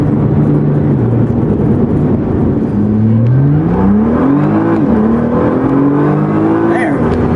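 2012 Nissan GT-R accelerating hard from 0 to 60 mph, heard from inside the car as a loud engine drone climbing in pitch through rising gear pulls with shift breaks, a steady road rumble underneath.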